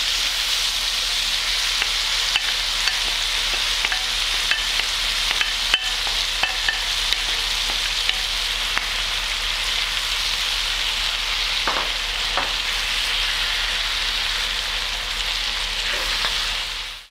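Sweet peppers and prickly pear fig peel fry in a pan for a ratatouille, giving a steady, close sizzle throughout with occasional soft stirring clicks and no talking.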